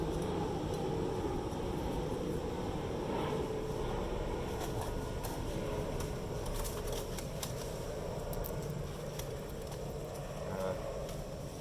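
An airplane passing overhead at an outdoor backpacking alcohol stove test, a steady broad rumbling drone that holds level throughout, faint and distant, with a little clinking of metal stove parts.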